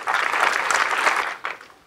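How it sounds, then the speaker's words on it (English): A theater audience at a film festival gives a brief round of dense clapping that breaks off and then returns in a short final flurry. "So give yourselves a round of applause,"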